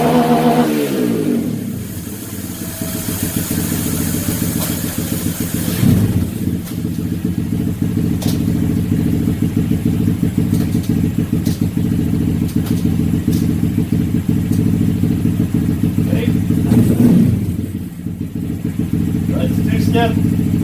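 A Honda Grom motorcycle with a quick-shifter holds a steady two-step rev at 6,600 RPM, then launches and climbs hard through the gears with brief shift cuts, loud and close, carrying on to about 96 mph.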